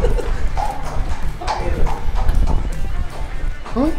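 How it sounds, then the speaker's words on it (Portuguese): Horse hooves clopping at a farm, a few uneven footfalls moving close by amid outdoor ambience, with people talking over them. "E olha o outro cavalo."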